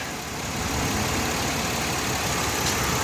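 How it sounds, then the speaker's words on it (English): A Chevy Uplander engine idles steadily, a smooth continuous rumble with no talking. "You can hear the engine run here, it purrs."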